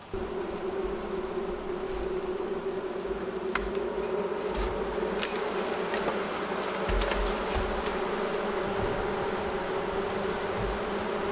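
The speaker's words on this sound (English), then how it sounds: "As you can see, the box is full of bees." A dense, continuous buzzing of many honeybees in a full hive box during queen rearing fills the clip, steady and close, with occasional sharp clicks and knocks.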